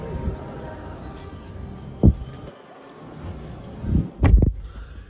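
Car door of a 2022 DS4 Performance Line shutting, heard as a single solid thump inside the cabin after a smaller knock, with low muffled rumbling around it.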